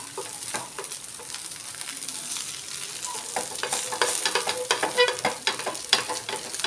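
Rava dosa batter sizzles on a hot pan, a continuous close crackle and spit that grows busier and louder toward the end.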